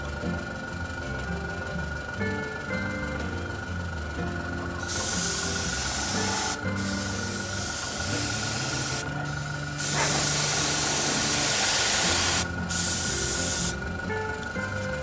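An airbrush sprays highlights onto a tabletop miniature Tech Coffin for Infinity, giving a loud steady hiss in several bursts that start and stop over a low background hum, with no talking.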